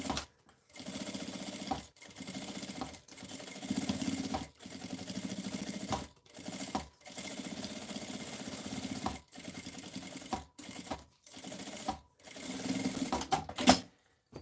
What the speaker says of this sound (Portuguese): passar uma costura bem na beiradinha em toda a volta